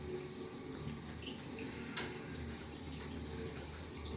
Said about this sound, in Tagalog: Patayin mo na natin yung tubig.